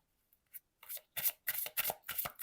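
Oracle cards from an angel-themed deck are shuffled by hand for a reading: a few faint rustles build into quick, crisp bursts of riffling card stock, close and quiet with no talk.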